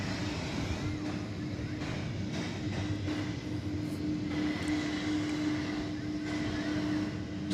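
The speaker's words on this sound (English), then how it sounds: "So we'll see what kind of a rocket takeoff this one has." An American Airlines jet departs DFW Airport, its engines a steady distant roar with a low hum that holds evenly throughout, with no voices over it.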